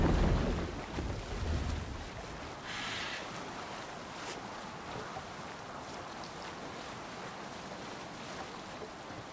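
A sailing boat in the video game Assassin's Creed Valhalla moves over ocean waves, with a continuous soft wash of water and hull noise and a louder surge at the start, no voices.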